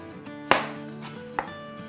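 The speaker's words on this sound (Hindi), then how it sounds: "अब इसी तरह से यहाँ से काट लेते हैं, साइड्स भी निकाल लेते हैं।" A knife chops through a raw potato on a cutting board while it is cut into French fry strips, two crisp, close cuts with a quiet gap between them and no speech.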